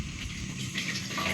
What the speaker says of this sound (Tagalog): Tubig, water pressure check.